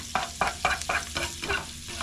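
Wild onions fry in butter while being stirred, giving a run of about seven rhythmic scraping sweeps over a bright, close sizzle, with no talking.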